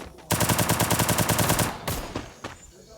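Rapid automatic gunfire in a 4v4 video game match rattles out in a fast, even burst of loud shots, followed by a couple of separate shots and quieter game sounds.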